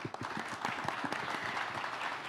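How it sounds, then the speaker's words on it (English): A forum audience applauds the moderator and panelists of a panel discussion on future mobility, a short burst of close, dense clapping that holds steady throughout. "can I hear a round of applause for our moderator and panelists?"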